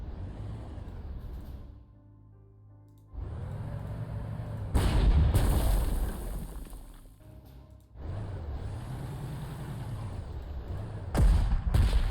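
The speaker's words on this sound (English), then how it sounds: "This artillery." Artillery fire in the video game Panzer Corps 2: four heavy, booming shots spaced a few seconds apart, each with a long rumbling decay over a low background drone.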